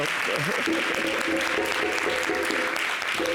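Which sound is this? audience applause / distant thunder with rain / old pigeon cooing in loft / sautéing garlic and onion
audience applause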